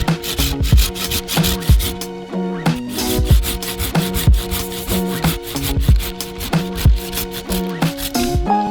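A hand saw cutting through a small serviceberry tree branch during late-winter pruning, with loud, steady back-and-forth rasping strokes in a brisk rhythm, close up and without talk.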